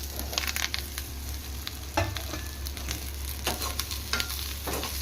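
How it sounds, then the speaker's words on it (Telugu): Cut bitter gourd pieces are tipped into a pan of frying onions, giving a quiet, steady sizzle with scattered crackles and soft clatters as the pieces land and settle, heard alone without speech. "ఇప్పుడు నేను ఈ కట్ చేసుకున్న కాకరకాయల్ని ఇందులో వేసుకుందాం."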